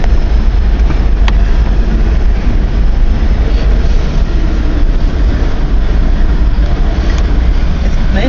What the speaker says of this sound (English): It's moving slow. He's just starting up